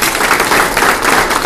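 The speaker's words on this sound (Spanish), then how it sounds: "Eso merece un aplauso." An audience at a Spanish-language network marketing talk bursts into loud, close applause, a dense, continuous wash of many hands clapping at once through the whole moment, with no speech over it.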